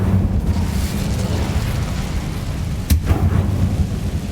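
A fire spell, Incendio, cast in Hogwarts Legacy, heard as a sharp burst near the end over a steady, loud low rumble of game ambience, with no talking.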